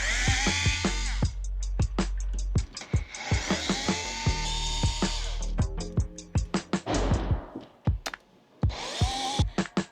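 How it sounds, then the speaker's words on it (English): A power screwdriver removes four screws from the nozzle of a DJI Agras T100 agricultural spray drone, giving repeated short bursts of whirring at close range with brief pauses between screws and no talk. "And then we'll remove the 4 screws"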